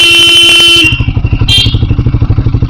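A motorcycle engine putters with a steady pulsing beat while riding downhill on a mountain road near Yercaud, loud and close, with a horn-like tone fading out at the start.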